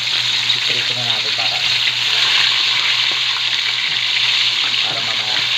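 Fish frying in hot oil in a home kitchen, a loud steady sizzle and crackle that holds throughout with a faint low hum beneath, no voices.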